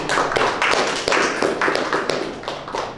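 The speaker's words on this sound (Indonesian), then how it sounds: "Kita beri aplaus." A classroom of students applauds with a quick, steady, rhythmic clapping, evenly paced and fairly close, without voices.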